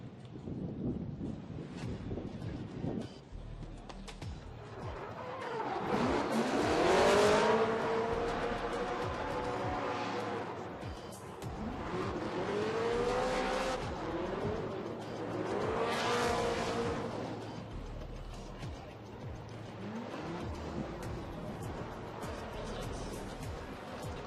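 A Chevrolet Camaro drift car at Formula Drift qualifying on the streets of Long Beach, California roars past under full throttle in surging, revving waves, loud then fading with wind noise.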